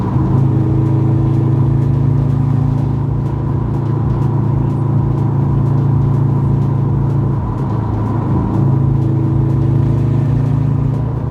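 Corvette C7 being driven on E85 pump gas, a loud steady engine drone with a low throbbing note and a brief dip in pitch partway through, heard from inside the car.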